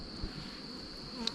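Honey bees buzz steadily around an open hive during a yard inspection, a faint continuous drone with a thin high whine, close and alone with no voices.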